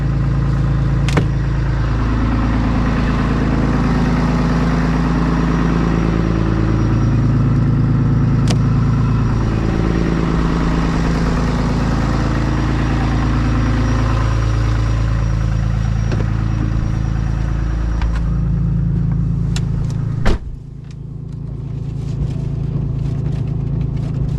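A car engine idles on a snowy mountain pass with a steady low hum and slight wavering, a few clicks along the way and a sharp knock near the end.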